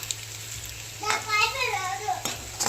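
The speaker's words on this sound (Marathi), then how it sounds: "असं तळून घ्यायचं तेलामध्ये. ह्याच्यामध्ये मी ना लसूण घातले बरं का." Chopped garlic fries in hot oil with a steady, close sizzle, then a burst of crackling and stirring around the midpoint and a sharp clink near the end, with faint voices in the background.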